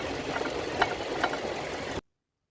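On a Hyundai Palisade, a fuel supply tube holder shaken by engine vibration raps against the brake master cylinder and booster, giving a faint steady engine hum with two soft knocks before it cuts off.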